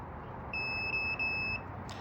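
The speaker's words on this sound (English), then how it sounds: "this corresponding pin right here should make a beep" A steady electronic multimeter continuity beep sounds for about a second, briefly wavering in the middle, over a low background hum, with no one speaking, while testing a pin on a 1999 Lexus ES300.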